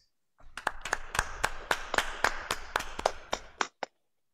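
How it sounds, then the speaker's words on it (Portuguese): Audience applause for an honored doctor at a medical award ceremony: a short burst of sharp, distinct claps, fairly close and steady, trailing off to a last few isolated claps, with no talk over it. "Peço uma salva de palmas ao Dr."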